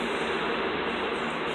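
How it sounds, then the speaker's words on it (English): A Babylon line train rolls in, a loud steady rumbling roar of wheels and carriages filling the station without letup. "we're going to be getting on the Babylon train"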